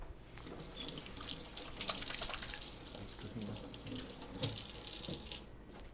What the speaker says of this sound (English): I'm gonna wash my hand and then we're ready